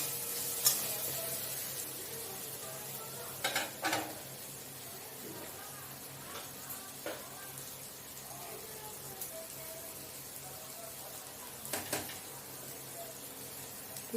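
Paneer and spices stir-fried in a pan give a soft, steady sizzle, with occasional clinks and scrapes of a utensil against the pan, fairly quiet overall.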